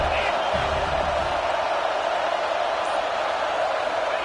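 Steady roar of a stadium crowd in a college football video game, a dense continuous wash of distant cheering with no clear breaks.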